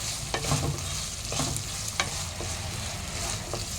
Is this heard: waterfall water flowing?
no